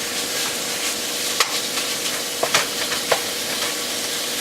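Chicken tinga sauce simmers and sizzles in a pan with a steady hiss, a few brief clicks and pops of a spoon stirring standing out, with no talk.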